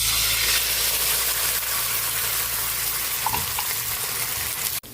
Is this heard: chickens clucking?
no